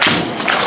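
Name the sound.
gundu firecracker exploding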